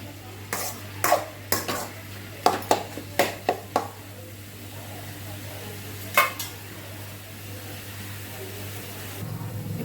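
Finely chopped capsicum frying in a pan for pepper chicken fry: a quiet, steady sizzle runs under a quick series of spatula clanks and scrapes against the pan, which then ease off.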